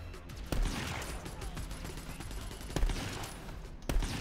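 Sporadic gunshots pop over a dense, noisy battle mix in Borderlands 3 during a fight as Zane against the M4 COV boss, with a few sharper cracks standing out.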